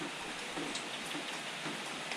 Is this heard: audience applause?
no